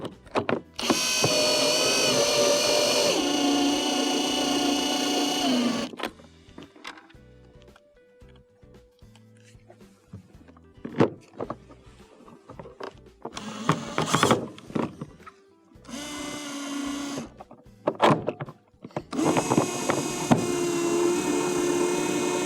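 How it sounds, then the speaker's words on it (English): A power screwdriver drives two Phillips screws into a GE refrigerator's top control interface during repair, with bursts of whirring loud and close, separated by quieter handling clatter and clicks. "Install the 2 Phillips screws."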